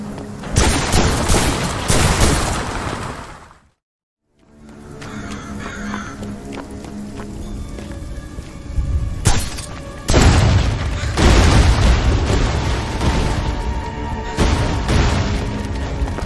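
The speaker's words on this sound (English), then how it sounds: "This is one of the first weapons you can pick up in Graven, the wrist crossbow." A wrist crossbow fires in the dark fantasy video game Graven, with sharp repeated shots and heavy booming impacts over a dense game soundtrack, broken by a brief moment of silence.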